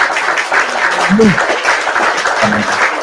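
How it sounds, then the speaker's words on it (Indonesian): A group claps for Gofur during an academic debate show, a brief patter of applause, moderately loud, under and around a couple of short voiced utterances. "Tepuk tangan buat Gofur"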